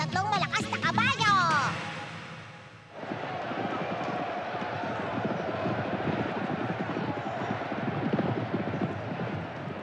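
A brief voice opens, then a steady rush of three horses galloping in a race drums on under a dense broadband roar for the rest of the stretch.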